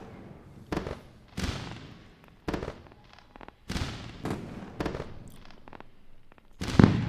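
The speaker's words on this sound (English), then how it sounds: "Let's go with the fireworks." Fireworks sound effect on a live futures day-trading stream: a series of sharp bursts and booms at irregular intervals, each decaying into crackle, with quieter gaps between and a louder blast at the end.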